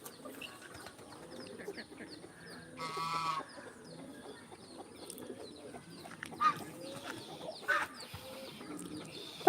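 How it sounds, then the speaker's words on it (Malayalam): Chickens and a chick around a rural home yard, with scattered soft clucks and chirps over quiet background noise, one brief louder call near the middle. "ആ കോഴിയതാ കോഴി കുഞ്ഞ് അങ്ങ് പോയിട്ടതാ വരുന്നതാ"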